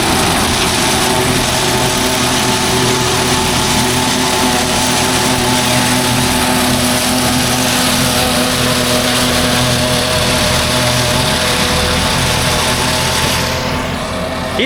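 A John Deere 3970 forage chopper runs with its pickup head spinning fast, a loud, continuous mechanical drone and whine with steady engine hum, close and unbroken throughout.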